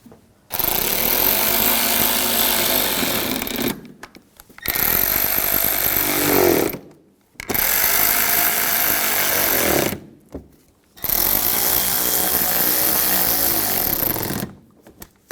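A power tool drives bumper cover screws on a 2011-2018 Volkswagen Jetta in four long, loud, steady bursts, each lasting a few seconds, with short quiet gaps between them.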